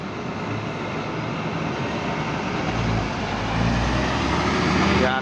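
A bus arrives at Purabaya bus terminal in a steady, loud rumble of engine and traffic noise that swells toward the end, with a voice talking over it.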